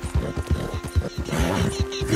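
A horse gallops in Red Dead Redemption 2, hooves pounding in a steady rhythmic clip-clop close by, with a brief whinny-like tone and no talking.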